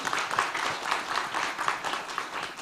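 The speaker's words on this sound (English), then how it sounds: "I think we can have a big round of applause" A round of applause from a conference audience for a panel on locally led adaptation, moderately loud, a steady patter of many hands with slight pulsing and no speech over it.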